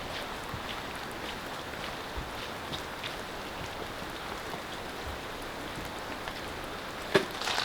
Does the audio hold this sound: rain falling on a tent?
yes